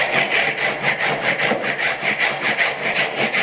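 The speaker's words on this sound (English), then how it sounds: "using this miter jack saw or tenoning saw and rip it as deep as I can go into the length of the tenon" A miter jack saw or tenoning saw rips a tenon by hand for a mitered bridle joint, producing a steady back-and-forth rasp of rhythmic strokes, close and clear, with no talk.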